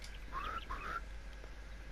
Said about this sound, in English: That was actually a wattle bird.